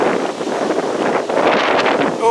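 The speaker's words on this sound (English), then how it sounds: "Oh, the wind's blowing." Wind blows outdoors in a loud, steady rush of buffeting noise against the microphone, with gusts swelling throughout the short stretch.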